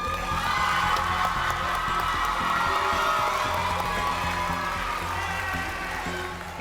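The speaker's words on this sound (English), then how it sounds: "Let's give these ladies and gentlemen a round of applause" Crowd at a JROTC change of command ceremony applauds and cheers, with clapping, whoops and shouts blending into a steady, loud wash that holds throughout and eases slightly at the end.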